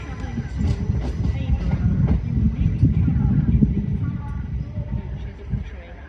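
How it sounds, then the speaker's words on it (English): A Class 333 electric train, unit 333-007, runs at Doncaster station on a service to Leeds, its low rumble and rail clatter swelling and easing, with an announcer's voice heard over it. "333-007 working a service to Leeds on the Leeds train"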